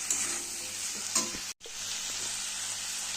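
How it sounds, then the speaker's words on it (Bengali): Potatoes and spring onions sizzle in hot oil, a bright continuous crackle with a couple of stirring scrapes and one brief break. "এবার আলু পেঁয়াজ কালিগুলোকে ভেজে নেব"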